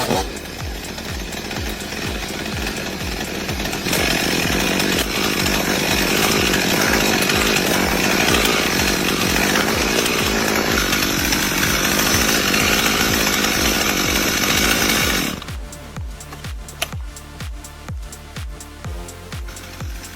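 A chainsaw roars steadily while cutting into trees, loud and close for about fifteen seconds, then cuts out, leaving irregular knocks and thuds.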